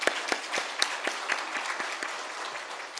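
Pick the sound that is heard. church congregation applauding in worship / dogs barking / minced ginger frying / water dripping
church congregation applauding in worship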